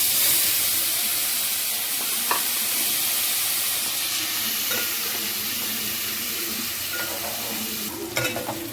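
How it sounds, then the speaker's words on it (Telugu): Small paneer pieces fry in ghee with a loud, steady close sizzle and hiss. Several brief scraping and stirring clatters come through, and there is no speech. "ఈ పన్నీర్ ముక్కల్ని కూడా నెయ్యిలో వేసేసుకొని ఫ్రై చేసుకోవాలి"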